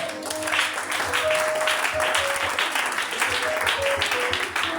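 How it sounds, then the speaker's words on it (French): A church congregation bursts into sustained, loud applause and clapping that fills the room evenly for several seconds, with voices calling out faintly underneath. "Est-ce qu'on peut acclamer le Seigneur?"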